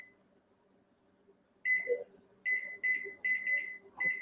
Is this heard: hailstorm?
no